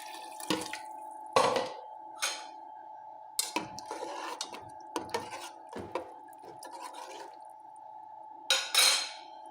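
Water poured into a cooking pot for okra, arriving in separate splashing bursts and drips with quiet gaps between them, close by and fairly soft.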